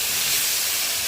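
Okra frying in hot oil with nigella seeds, salt and turmeric, giving a steady close hiss of sizzling oil with no voices.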